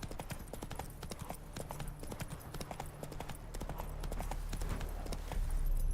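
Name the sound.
horse Roach's hooves clip-clopping, from video game Witcher 3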